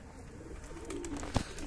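Low, soft cooing from a hungry pigeon perched on a rooftop, a short burbling phrase close by with a sharp knock or flutter near the end.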